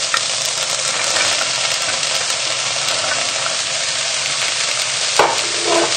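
Chopped celeriac and rosemary stalks tipped into vegetables already frying in a pan for beer-braised pork, giving a steady, close, loud sizzle with a brief stirring clatter near the end.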